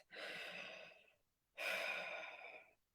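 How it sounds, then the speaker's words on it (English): Two deep breaths, each a long airy inhale or exhale lasting about a second, separated by a short pause, close and clear with no talking. "have a couple of deep breaths"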